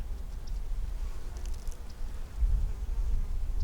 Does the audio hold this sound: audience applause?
no